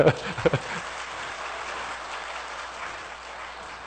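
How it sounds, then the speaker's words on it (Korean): A church congregation claps steadily, a broad even patter of applause after a few sharp sounds at the start, fading slightly toward the end. "한번 박수 한번 쳐주세요"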